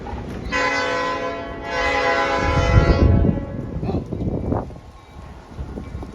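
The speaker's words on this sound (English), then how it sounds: "Oh, the train at the back blew its horn." A steam train's horn sounds two long, harmonic blasts, followed by the rumble and clatter of rail cars starting to roll.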